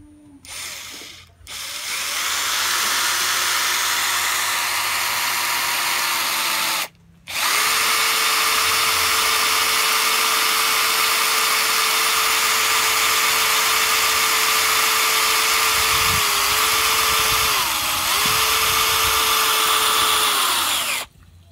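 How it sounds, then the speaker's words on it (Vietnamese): A Bosch GSB 140-LI cordless drill runs close and loud in long sustained bursts, a steady high motor whine drilling holes, broken by two brief stops and a couple of short dips in speed. "Này mình khoan 4-5 lỗ rồi."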